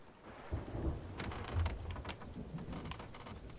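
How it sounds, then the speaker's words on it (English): A thunderstorm with rain in the video game Sea of Thieves: a steady rain wash with low rolling thunder rumbles swelling twice, no voices over it. "How long is this storm going to last, though?"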